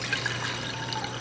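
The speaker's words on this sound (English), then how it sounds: "Add in, this is 2 cups of water." Two cups of water pour into a pot on a stove set to high heat, a steady close splashing stream that runs throughout without talk.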